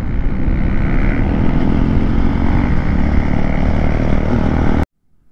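A Max 100 motorcycle engine drones loud and close in a steady, continuous run on an off-road ride, cutting off abruptly near the end.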